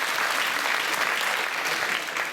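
Audience applause fills the hall at a Bain de Bretagne amateur singing contest in 2014, a thick, continuous wash of clapping at steady loudness from start to finish.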